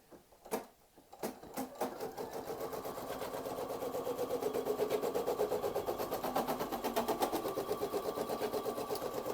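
Embroidery machine sewing a simple running stitch on an in-the-hoop towel topper: a few isolated needle thumps, then a steady rapid mechanical chatter that builds and runs on evenly.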